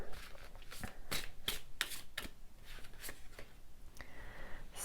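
Tarot cards shuffled by hand in a series of crisp riffling bursts, about eight quick papery flicks spread over a few seconds, close and fairly loud with no voice.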